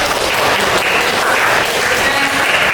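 A class of students claps hands together in a steady burst of applause, loud and close, lasting a few seconds.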